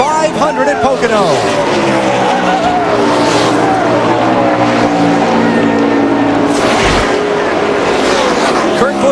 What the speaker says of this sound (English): Elliott wins the Pennsylvania 500 at Pocono.